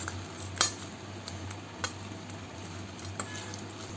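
A spoon mixes papad chaat with peanuts in a bowl, giving soft scattered clinks and scrapes over a steady low hum, close by and fairly quiet.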